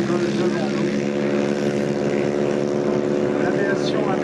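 A 1930s American propeller aircraft takes off at the La Ferté-Alais airshow, its engine a loud, steady, close droning roar that fills the whole stretch, while a commentator talks over it.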